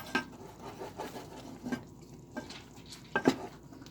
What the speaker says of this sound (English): So my oatmeal is simmering now. I'm gonna give it a stir.